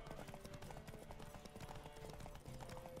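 Clip-clopping hooves of a horse in the video game Witcher 3, an even, quick rhythm of nearby hoofbeats continuing throughout.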